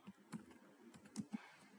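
Keystrokes on a computer keyboard while entering a Docker command in an Ubuntu terminal, a quick irregular run of soft clicks close to the mic, with no talking.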